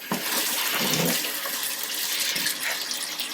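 Tap water runs steadily and close in a kitchen while hands are wetted during preparation of a steak and kidney pudding, a continuous broad rush with small splashes and no speech.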